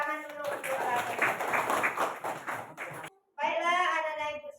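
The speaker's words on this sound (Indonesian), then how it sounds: "Kita tepuk tangan dulu untuk Latasha." A burst of rapid clapping from a group of children in a classroom, followed by a short pause and then a voice speaking.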